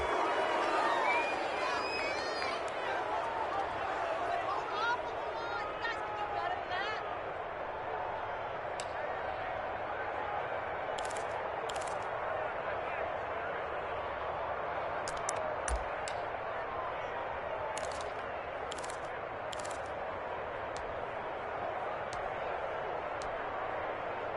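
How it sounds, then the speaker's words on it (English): A football video game's stadium crowd roars in a broad, steady wash behind a commentator who talks throughout, with brief sharp clicks surfacing in the second half. "Listen to this crowd now."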